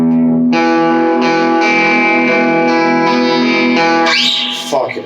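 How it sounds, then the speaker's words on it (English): An electric guitar played through a Blondie amp with the gain turned up to 7 rings out as sustained, heavily distorted chords, loud and alone, before sliding into a squealing pitch bend at the end. "with the gain cranked at 7, I'd be getting some pretty gnarly tones"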